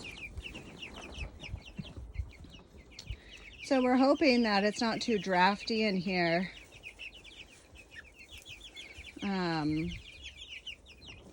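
Chickens in a drafty coop give several loud, close clucks and squawks in a cluster, then another burst a few seconds later, while a person talks quietly nearby.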